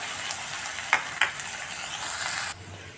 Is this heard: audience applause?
no